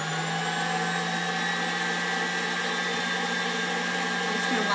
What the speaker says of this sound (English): So I'm going to get the mixer going here.